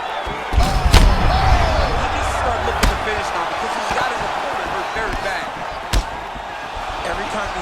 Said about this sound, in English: you just hear the punches and everything landing